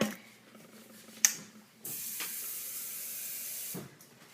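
Water added to a blender cup for a tropical strawberry Shakeology shake, a bright hissing rush that starts abruptly midway and runs steadily for about two seconds before stopping, close up.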